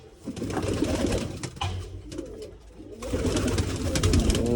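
Female pigeons cooing close by on a pigeon perch, low throaty calls overlapping with soft rustling and flutters, steady throughout.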